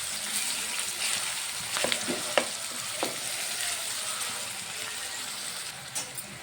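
Chopped onions and green chillies sizzling in hot oil in a pan, a steady close frying hiss with a few soft scrapes and clinks of a spoon stirring, no talk.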